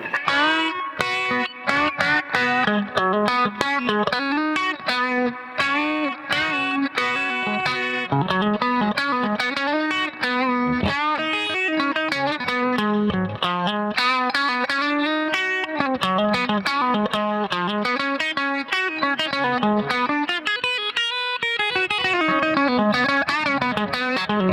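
An electric guitar plays through a PedalPCB Spirit Box DIY pedal, producing continuous effected, distorted melodic lines with shimmering modulation and reverb, loud and alone for the whole stretch.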